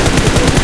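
Rapid automatic gunfire from PUBG Mobile, played on an emulator, comes as a tight run of evenly spaced, loud shots in one short, dense burst.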